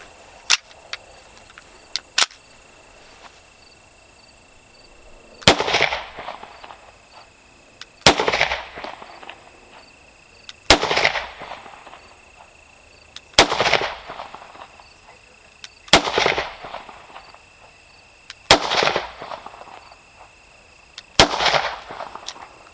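Seven gunshots fired one after another into a safe vest backed by board, each a sharp loud crack with a short decaying tail, spaced a few seconds apart and heard alone.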